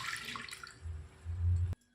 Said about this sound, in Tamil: இப்போது அந்த புளி தண்ணியை ஒரு பாத்திரத்தில் சேர்த்துக்கலாம்.